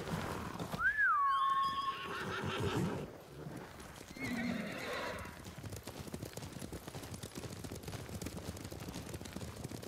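In the video game Ghost of Tsushima, a horse whinnies loudly near the start, followed by a run of clip-clopping hooves and background game sounds.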